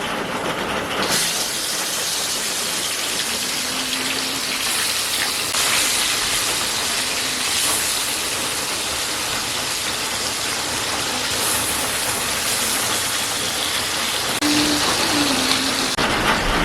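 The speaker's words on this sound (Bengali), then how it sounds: "কড়া তেল গরম হয়ে গেছে, এবারে মাছগুলো ভেজে নেব।" Fish frying in hot oil in a kadai wok, a steady loud sizzling hiss that runs throughout with a few bursts and crackles, no talking.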